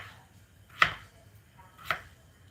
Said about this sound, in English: So this is how I cut it.